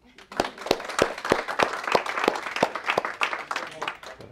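A crowd applauding steadily, with rapid overlapping claps and sharp individual hand strikes standing out, fairly close and sustained throughout.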